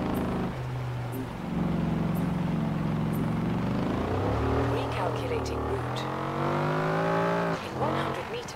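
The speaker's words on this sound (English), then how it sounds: "The only problem with this turbo is that it's very high rev on low gear, and I need a low gear for drifting, so she is a bit noisy" Turbocharged Eleanor 1968 Mustang GT drifting in a racing game, engine revving very high in low gear with rising and falling pitch sweeps, loud and continuous, with someone talking over it.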